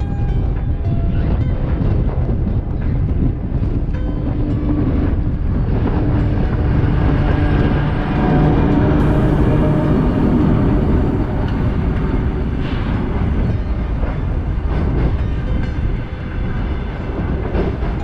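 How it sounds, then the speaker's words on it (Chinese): A train bound for Outer Mongolia rumbles past a border crossing, loud and continuous with a steady rolling roar and faint rail clatter throughout. "火车来了，去往外蒙古的火车。"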